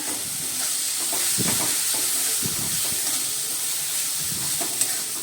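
Turmeric and red chilli masala roasts in oil, a steady soft hiss and sizzle with faint, intermittent stirring noises nearby.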